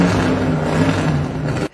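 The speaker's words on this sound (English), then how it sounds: "starting under the hood is a NASCAR V8 that makes 725 horsepower" A 725-horsepower NASCAR V8 in a 1966 Toyota FJ Land Cruiser pickup idles and revs, a loud, steady, deep engine rumble close by that cuts off abruptly near the end.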